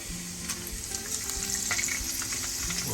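Green chillies frying in a pan for semiya tomato bath, a dense, continuous close sizzle with faint crackles throughout and no talking.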